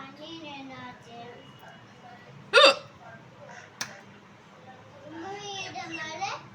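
One sharp, loud hiccup sounds mid-clip, followed by a smaller catch a moment later, while children's voices talk and chatter around it.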